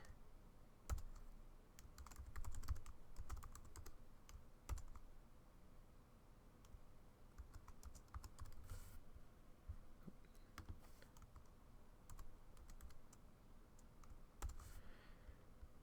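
Typing on a computer keyboard while entering a file name, faint scattered key clicks in short irregular bursts over a low room hum.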